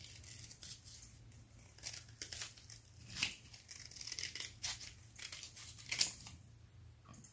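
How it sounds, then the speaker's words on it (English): Paper pages being trimmed off a handmade book signature with scissors, a series of close, quiet snips and crisp tearing and crinkling sounds in uneven bursts, with no talking. "Just cut off the pages."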